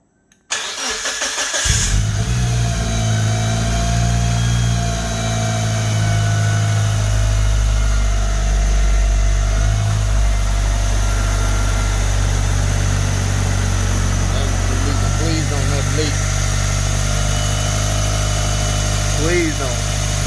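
Car engine from the Evo, a Mitsubishi Lancer Evolution, cranking and catching at the start, then idling with a steady loud rumble throughout, with faint talk and small background clatter.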